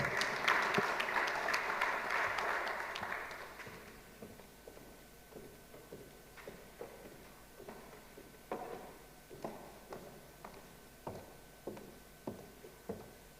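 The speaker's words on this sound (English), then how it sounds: "Can we give her a round of applause as she comes forward?" Audience applause at a city investment retention programme launch, a dense burst of clapping for the first few seconds, then thinning into scattered individual claps that fade out.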